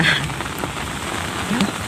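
Rain falls steadily during fishing beside a natural canal, a dense constant patter on surfaces, close and even throughout, with no voices.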